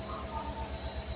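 A train at Yeshwantpur railway station in Bangalore, with a steady low rumble of rolling railcars and thin high wheel squeal running through a short stretch without voices.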